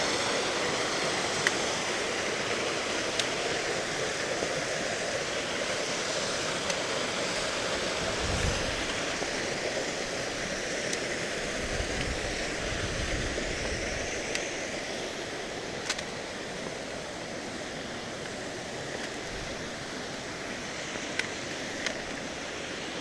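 Waterfalls along a mountain ravine on a hiking trail up Mount Washington, New Hampshire, a steady broad rush of falling water, close and continuous throughout with occasional faint knocks and no talking.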